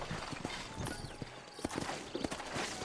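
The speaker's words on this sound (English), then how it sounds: "You ain't gonna find sturdier horses than these in all of New Ulster." Horse hooves clip-clopping in the Red Dead Redemption video game, the sturdy horses of New Ulster walking out of town with steady, fairly quiet hoofbeats in an uneven rhythm.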